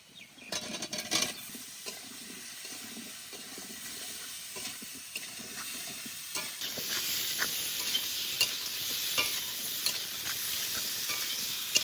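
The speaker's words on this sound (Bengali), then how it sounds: "আলু আর কুমড়ো একটু ভেজে নিয়েছি" Potato and pumpkin pieces fry in a pan and are stirred. A soft hiss swells into a louder, steady sizzle, broken by repeated scraping strokes of the stirring utensil, with no speech.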